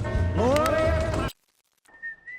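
A bright, melodic tune whistled by a woman in a film rings out over a busy background, then cuts to near silence before a thin steady tone fades in.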